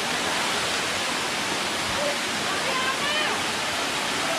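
Songudha waterfall in Janjgir-Champa pours in a loud, dense, unbroken roar at close range, with faint voices of a crowd of visitors mixed beneath the rushing water.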